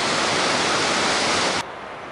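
Water rushes through mountain irrigation channels near Mt. Toubkal in Morocco, a loud, dense, continuous hiss that drops suddenly to a softer steady flow partway through, with no voices.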